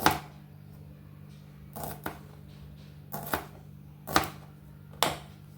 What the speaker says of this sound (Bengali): এবার কেটে নেব দুদিকটা একটু করে কেটে দিচ্ছি এরকম ছোট ছোট করে কেটে নেব